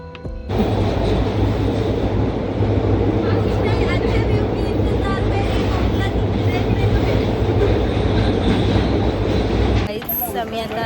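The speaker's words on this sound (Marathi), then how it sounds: "गाईज आमची ट्रेन ओक्षीला थांबली." Passenger train rolling through the Konkan region near Ratnagiri, a steady loud rumble with faint rhythmic clatter running continuously for about ten seconds, then a brief change at the end.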